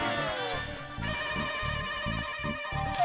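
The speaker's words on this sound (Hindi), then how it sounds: "मेहता साहब को फोन करता हूँ, उनके पास जो पेपर था शायद उसमें आया होगा।" A telephone ringtone plays quietly in repeating melodic bursts, pulsing in a steady rhythm with short gaps between rings, heard alone without talk.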